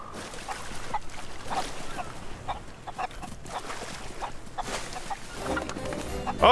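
Chicken clucking in the Sea of Thieves video game, a few short clucks over a busy game soundscape of water and ambience, with a person talking faintly at times.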